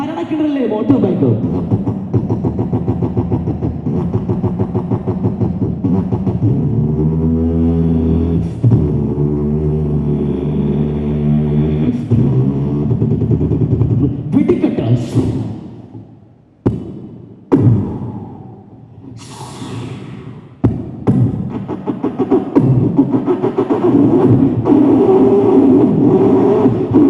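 A performer at a school arts festival uses only his voice to imitate a motorcycle racing around a well-of-death stunt track. The loud revving sweeps rise and fall, broken by short pauses and gasping breaths.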